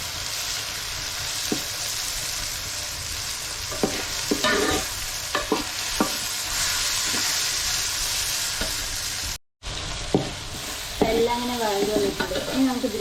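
Tomato sautéing with ginger and garlic in a pan for a vegetable biryani, a steady sizzle punctuated by scraping stirs of a spoon, with a brief dropout partway through.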